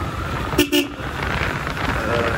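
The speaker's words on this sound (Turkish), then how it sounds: "Korna niye böyle lan? Bakalım korna bozulmuş mu?" A motorcycle horn with a possible fault gives two short honks, one after the other, over engine and wind noise during a group ride in Izmir.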